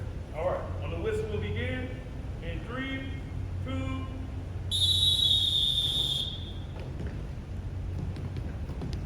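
A single sharp, loud referee whistle shrills for about a second and a half to start a fitness step test, coming after a teacher's spoken instructions, with group chatter and room noise around it.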